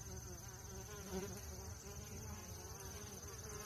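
Honey bees swarm around a hive while being fed outdoors, a steady buzzing drone of many insects close by with individual bees passing near, faint and continuous throughout.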